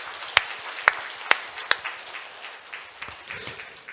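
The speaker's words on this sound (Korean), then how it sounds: "우리가 드릴 수 있는 최고의 박수로 한번 드리겠습니다." A short burst of applause at a church Sunday service, with a few sharp, distinct claps at first, then a softer patter of clapping that trails off.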